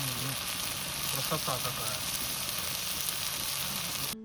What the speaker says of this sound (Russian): И лучок с чесночком нам надо поджарить до золотистой корочки.